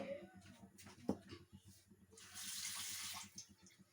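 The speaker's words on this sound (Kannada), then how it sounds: "ನಾನು ಇನ್ನೂ ಸ್ವಲ್ಪ ನೀರನ್ನು ಇದಕ್ಕೆ ಹಾಕ್ತಾ ಇದ್ದೀನಿ." Water is poured into a masala puri mixture in a quiet kitchen: soft clinks and stirring come first, then a steady splashing pour of about a second.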